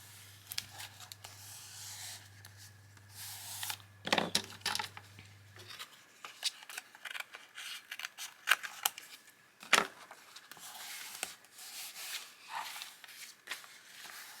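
Paper being trimmed for a junk journal made from an old book, with quiet, scattered snips, rustles and small taps close by. No one speaks.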